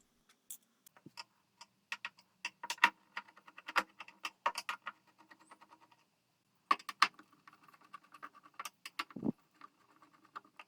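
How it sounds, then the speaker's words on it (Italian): Clicks, taps and small clattering knocks come from the protective cover of a faulty induction hob being taken apart, close and moderately loud, in irregular bursts with a short pause midway and a lower thud near the end. "iniziamo a smontare la protezione per andare alla ricerca del guasto"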